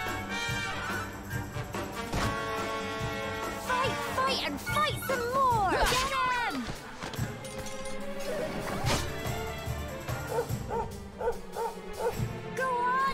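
Dog barking and yipping in Dragon Quest XI S, short bright barks scattered among battle crashes, whacks and game music, with a voice talking over much of it.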